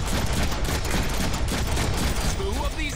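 Dense, loud gunfire from the Deadpool video game, rapid overlapping shots and bursts in a continuous fusillade with game effects layered on top.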